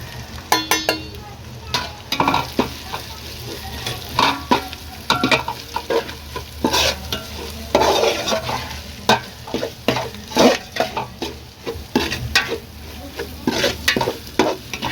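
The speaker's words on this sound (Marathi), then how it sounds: "त्यात आपले सगळे सुखे मसाले टाकून घेऊया" Dry spices for a crab curry sizzle in hot oil while a spoon stirs them steadily, sharp scraping clicks over a constant frying hiss, close and fairly loud with no talking.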